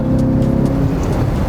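The 6.2-liter V8 of a 2021 Chevrolet Corvette Stingray Convertible revs loud and close, a brief sustained growl with a steady throaty hum and no voices.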